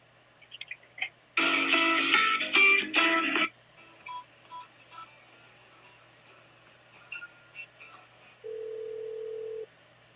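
Telephone call transfer tones: a quick cluster of touch-tone dialing beeps, several short tone blips, then a steady dial tone of about a second near the end, with no talking over them.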